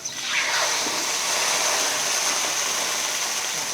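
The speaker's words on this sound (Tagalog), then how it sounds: "Lagyan na natin ng konting tubig." Water poured into a pan of pork frying in oil for pako guisado, giving a steady loud hiss and sizzle that holds evenly throughout, with no voices.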